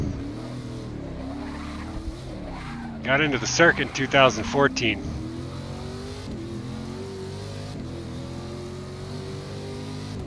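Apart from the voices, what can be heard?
Corvette C7R race car engine in video game Forza Motorsport 6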